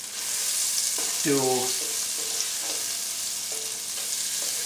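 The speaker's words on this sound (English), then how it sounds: "saute the shrimp" Shrimp sautéing in olive oil over medium heat gives a constant close hiss with soft stirring taps, and a voice speaks briefly over it.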